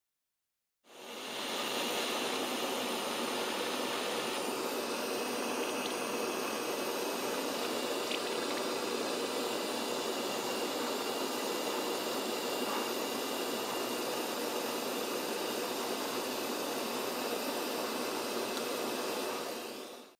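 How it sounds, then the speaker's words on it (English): A small cyclone burner heating a model Quarry Hunslet steam locomotive, a steady, even roaring hiss that starts abruptly and holds constant and fairly close for the whole span, with no talk. "The small cyclone burner, providing the heat."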